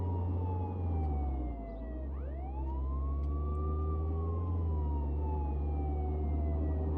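Police car siren in the video game Contraband Police wails loudly and continuously over a low engine rumble, its pitch dipping briefly and then sweeping back up before holding a steady rising-and-falling tone.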